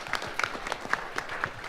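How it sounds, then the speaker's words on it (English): Standing ovation from a conference audience at a Grin cryptocurrency mining event, a dense steady wash of clapping at moderate distance with a few sharper individual claps poking through, lasting under two seconds. "Why don't we give him a standing round of applause?"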